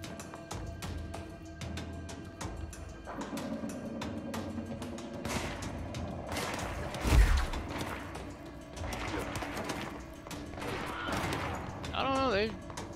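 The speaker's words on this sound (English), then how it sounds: "I don't know, that's weird, they're shooting at something." Bursts of gunfire from the video game Control, repeated shots and volleys mixed with thuds and crashes in a busy game soundscape, with someone talking over parts of it.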